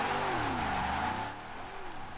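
In the Forza Horizon 4 racing game, a car drifts with sustained tire squeal that wavers in pitch over a steady engine drone, easing slightly toward the end, with no talk.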